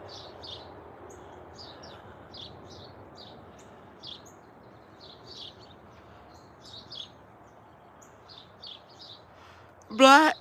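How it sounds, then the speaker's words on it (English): A blackbird sings in scattered short phrases, faint and somewhat distant over a low background hum, with a brief louder voice-like burst near the end. "Blackbird."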